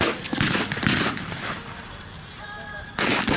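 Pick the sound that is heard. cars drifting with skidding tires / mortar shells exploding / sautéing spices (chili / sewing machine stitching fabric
mortar shells exploding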